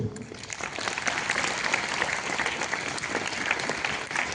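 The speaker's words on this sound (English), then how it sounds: "let's show our appreciation with a resounding applause for our Father Vice Principal" Sustained applause from a school assembly crowd at a Thanksgiving Day gathering, honoring the Father Vice Principal; dense, steady clapping fills the whole stretch at an even, fairly loud level.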